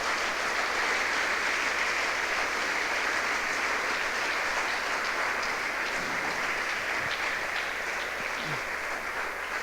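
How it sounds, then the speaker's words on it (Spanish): A congregation at a Spanish-language church service gives the Lord a strong round of applause: steady, even clapping that holds at a moderate, somewhat distant level throughout, with no voices standing out. "dale un fuerte aplauso al Señor"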